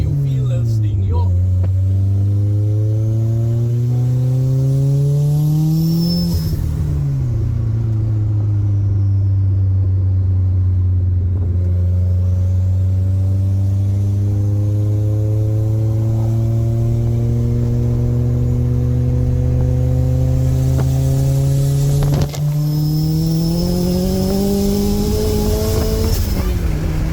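A car with a swapped-in VR6 engine accelerating hard through the gears, its loud close engine note climbing steadily, dropping at each shift and climbing again, with people talking over it inside the cabin.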